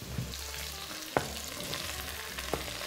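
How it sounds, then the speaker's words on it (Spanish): Zucchini frying in oil in a pot gives a soft, steady crackling sizzle with a few sharp clicks, close and fairly quiet, with no voices. "Y el calabacín, en cuanto lo pones aquí en la cazuela, empieza a soltar agua y ya te digo a ti que se acabó la fritura."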